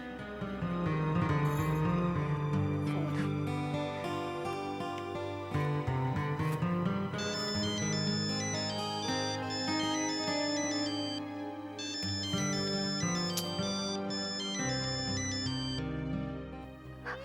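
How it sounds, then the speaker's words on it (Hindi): A melodic phone ringtone plays continuously and loudly, a looping electronic tune of bright repeated notes with no voices over it. "अपूर्वा का फोन वैसे क्यों जा रहा है?"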